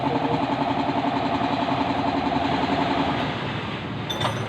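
Close, steady engine chugging from a Yamaha XTZ 125 motorcycle that has trouble starting, a continuous rhythmic running sound with a brief click near the end.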